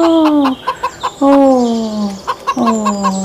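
A small chick cheeps loudly and close in repeated high, descending peeps, with short pauses between the bursts.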